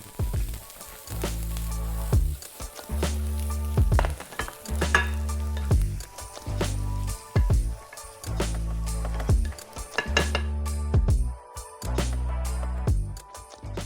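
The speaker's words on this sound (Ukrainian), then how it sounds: "Чекаємо, поки все гарненько посмажиться." Chicken liver sizzling in a pan with thyme and garlic, loud close frying crackle broken by repeated stirring scrapes that come in rhythmic bursts with brief quieter gaps.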